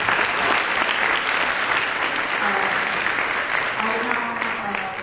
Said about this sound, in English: I would like to give another warm round of applause to the speakers for today